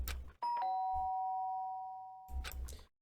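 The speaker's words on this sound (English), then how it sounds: "The sharp sound of the doorbell pierced my sleepy haze and pulled me back to the real world." Video game doorbell from Danganronpa, a clear two-tone chime with a ringing sustained tail that fades slowly, framed by short bursts of other game sounds at the start and end.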